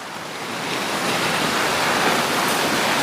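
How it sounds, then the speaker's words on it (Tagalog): A swollen stream rushes loudly after a storm on a mountainside, a steady broadband roar of fast water building slightly over the first second and then holding constant, with no voices. "At mga sapa ngayon ay maraming tubig."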